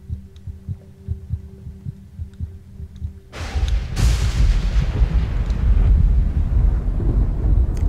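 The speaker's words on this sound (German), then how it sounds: "Ist das jetzt mein Herzschlag oder ist das jetzt nicht mein Herzschlag?" A slow, rhythmic heartbeat thumps for about three seconds in the horror game Among the Sleep, then a loud, rolling thunder rumble abruptly takes over and swells.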